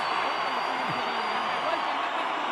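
Dense, steady roar of a boxing arena crowd at the Mayweather vs Ortiz fight, filling the whole moment loud and close with no break, a broad wash of many voices.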